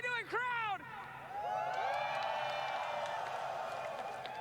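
Arena crowd at a Dota 2 International esports event cheering and whooping loudly throughout, a sustained roar swelling after a brief shout, with a nearby voice speaking over the start.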